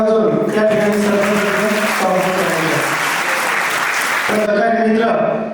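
An audience at a Marathi public lecture event claps loudly and continuously for several seconds, dense applause close up over a sustained musical tone, fading only slightly at the end.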